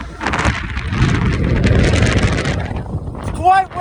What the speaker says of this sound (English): It's quite windy! Quite windy! It was really, really windy.